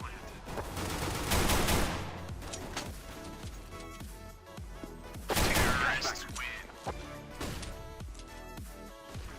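A CZ-75 pistol fires in Counter-Strike: Global Offensive, with rapid bursts and taps of sharp gunshots in quick succession, loud and close, alongside other game effects.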